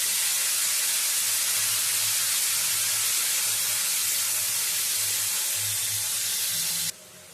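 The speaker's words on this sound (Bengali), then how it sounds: "আলুগুলো তুলে নেওয়ার পরে যে বাড়তি তেল তেলটুকু রয়েছে সেই তেলের মধ্যে বরবটিগুলো ভেজে নেব" String beans fry in leftover oil from potatoes, giving a steady, loud hiss and sizzle that holds evenly throughout with a faint low hum beneath, then drops sharply in level near the end.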